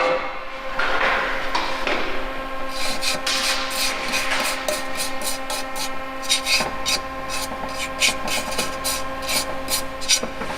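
Scratches are being sanded off a metal intercooler mounting part on a 1969 Chevrolet Corvair, a steady close rubbing and rasping with a run of regular strokes in the second half and no talk.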